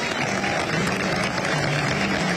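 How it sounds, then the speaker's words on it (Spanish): School staff and pupils clap together to welcome a girl back to her school, a dense, close wash of applause that runs steadily without a break, with a voice faintly audible underneath. "con aplausos"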